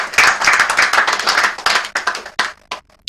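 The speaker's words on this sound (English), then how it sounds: "So please, a round of applause for everyone seated here." An audience at a Nigerian corporate sustainability report launch gives a round of applause, dense clapping that thins into a few scattered claps before fading.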